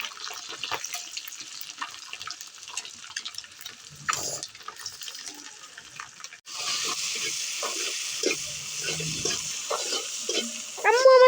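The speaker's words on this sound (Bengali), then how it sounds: "মিষ্টি লাউ রান্না করতেছি" Sweet gourd cooking in a pan, stirred and frying for a meal with fish or egg: a steady sizzle with scraping stir strokes and a brief splash of water, growing louder and denser partway through, with no talking.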